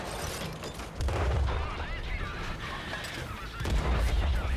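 A tank cannon fires in World of Tanks as a heavy booming blast with a low rumble, followed by a second boom amid ongoing battle noise.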